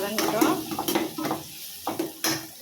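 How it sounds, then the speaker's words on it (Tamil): Onions and curry leaves fry in a pan for sambar while a spoon stirs them, giving scraping clinks and soft sizzling in short bursts over about three seconds, close and moderately loud. "அதையும் போட்டு நல்லா கிளறி விடலாம்"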